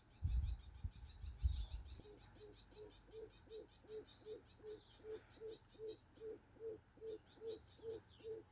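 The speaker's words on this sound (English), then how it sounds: "I'm really enjoying listening to all these beautiful birds." Birds in a South African garden call under quiet outdoor ambience: a dove-like coo repeats in a steady, even rhythm, with thin chirps above it and a few soft knocks near the start.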